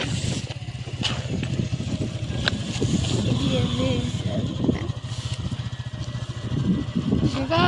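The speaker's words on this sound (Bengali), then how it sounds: "হলো পানি নৌকা চালাইতে" A steady motorboat engine drones close by on a river, with people talking over it throughout.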